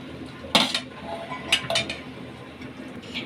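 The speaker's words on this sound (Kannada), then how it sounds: "ಈಗ ಹುರ್ಕೊಂಡಿರೋದೆಲ್ಲ ಮಿಕ್ಸಿ ಜಾರ್ಗೆ ಹಾಕೋತಾ ಇದ್ದೀನಿ" A few sharp clinks and knocks as roasted ingredients are dropped into a metal mixer grinder jar, spaced irregularly with quiet between.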